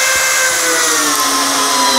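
A Bosch GSB 185-LI cordless drill driving a 5x16x55 hex screw, a loud, continuous high-pitched motor whine close up with no pauses.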